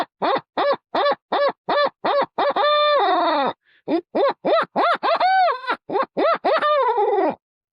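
A reed-style owl hooter is blown to mimic a barred owl: a loud, close run of rhythmic, evenly spaced hoots, broken by a long held note and a few rising and falling wailing calls. No talking.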